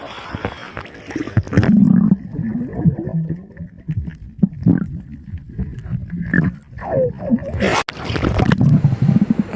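Phone held underwater in the salty Arabian Sea off Oman, giving muffled gurgling, bubbling and low rumbling water noise with occasional thumps and swishes, steady and close throughout.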